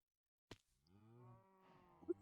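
A Minecraft cow moos once after a short click, a low drawn-out synthetic lowing that is faint and isolated against silence.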